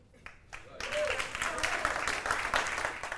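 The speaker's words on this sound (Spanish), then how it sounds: "Ahí cabía un buen aplauso." Church congregation breaking into sustained applause after a brief pause, dense clapping that swells quickly and holds steady at moderate loudness.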